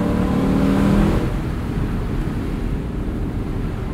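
A 2022 Lexus LC 500 convertible driving with the top down, its engine droning loudly with a brief rising rev early on before settling into a steady rumble mixed with wind rush.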